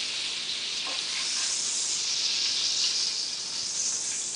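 A salmon fillet sizzles skin side down in a hot pan, a steady bright hiss of frying that holds at an even level throughout, close and uninterrupted.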